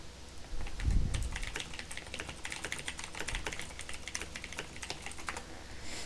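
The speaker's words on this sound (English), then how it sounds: "I'm gonna type that too" Computer keyboard typing during a dungeon crawl game session, a steady run of close, rapid key clicks continuing throughout with a brief low thump near the start.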